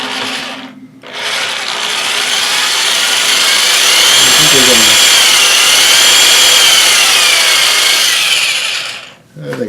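Power drill running in reverse while boring into a button board, a loud, continuous whirring grind that starts after a brief pause, holds for several seconds and then cuts off.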